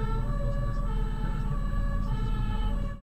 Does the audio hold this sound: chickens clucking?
no